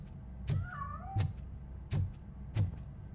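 A cat in the video game RoboCop: Rogue City meows four times at a steady pace, clear, close and moderately quiet, with no other sounds between the calls.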